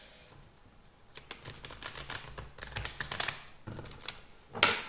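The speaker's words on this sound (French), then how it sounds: "on va battre les cartes" A deck of tarot-style oracle cards is shuffled by hand up close, a run of quick soft riffling clicks and flutters in uneven bursts, ending with a sharper slap of the cards.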